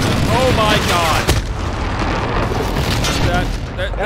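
A video-game airstrike rumbles as one sustained, loud explosive roar with a sharp crack partway through, while players talk excitedly over it.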